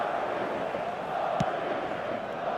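A stadium crowd roars in the eFootball 2025 video game, a dense, steady wash of cheering and chanting sustained throughout, with one brief sharp knock partway through.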